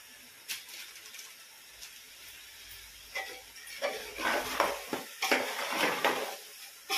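Chicken with masala being stirred in a metal cooking pot: quiet at first, then a run of close scraping and clinking knocks from the spoon against the pot.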